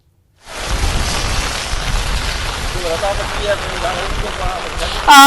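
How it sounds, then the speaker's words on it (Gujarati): Heavy monsoon rain pours down in Modasa, Aravalli, Gujarat, in a dense, steady roar that begins abruptly and keeps going, with a faint voice murmuring in the background. "વિભુ આપ જે વિસ્તારમાં છો ત્યાં વરસાદની શું સ્થિતિ છે"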